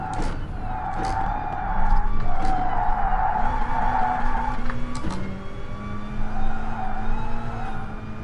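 Car tires skid and squeal through a big fishtail in the GT Sport racing game, a wavering screech over a steady engine drone that swells, eases and returns across the whole stretch.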